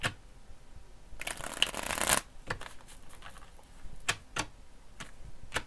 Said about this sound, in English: I'm going to shuffle this a few times.